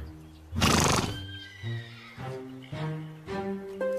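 A horse on a ranch lets out a loud, close neigh, a rising shrill whinny that breaks into a series of shuddering, pulsing calls over about three seconds.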